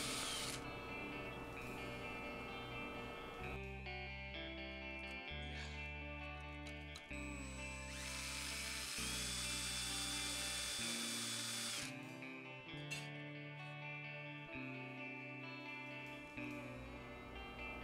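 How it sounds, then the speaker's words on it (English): A power drill bores a few holes into the dovetail neck pocket of a 1915 Washburn guitar during a neck reset, with several separate whirring bursts of differing length close by, broken by short pauses. "Now I'm going to drill a few more holes closer to the edge of the pocket."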